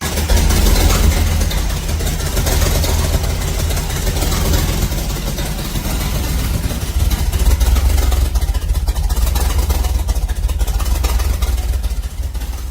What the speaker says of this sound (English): this is our second fire up of the Nova with the 307.